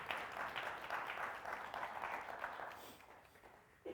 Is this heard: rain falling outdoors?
no